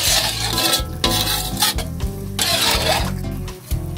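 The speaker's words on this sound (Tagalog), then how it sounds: "Bahagya po natin haluin para matunaw yung ilagay natin na Knorr" Pancit noodles stirred in a pan with dissolving Knorr cubes, a utensil scraping and clattering rhythmically against the metal under a soft ongoing sizzle, loud and close.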